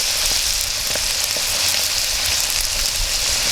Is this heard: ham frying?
yes